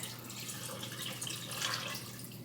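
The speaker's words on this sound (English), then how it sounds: "so I will just add the rest of my water now" Water pours into an Instant Pot holding pasta shells for a creamy beef one-pot meal, a soft steady trickle and splash, close but fairly quiet, with no voices.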